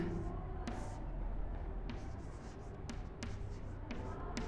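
Chalk or marker on a classroom board writes an example, with soft scratches and a few sharp taps over a steady, noisy room background.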